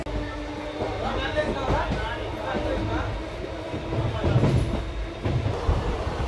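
The Dhone to Guntur Express pulls away from Rangapuram station, its carriages giving a continuous mid-level rumble with faint rhythmic clatter that swells slightly toward the end.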